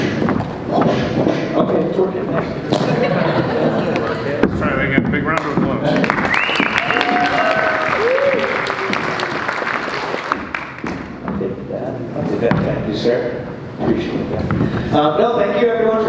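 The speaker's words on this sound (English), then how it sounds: "Let's try that again. Big round of applause." An audience at a performance event claps in a continuous, moderately loud wash, with voices and cheers mixed through and an announcer's voice rising over the applause.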